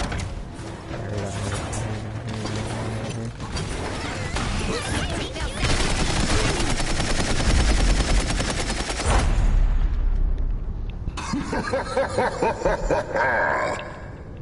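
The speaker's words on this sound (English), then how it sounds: "Oh god, they're shooting me." A long, busy spell of Paladins combat: shots and weapon effects pile into a steady loud wash for about nine seconds, then thin into choppier bursts and mechanical clicks before trailing off.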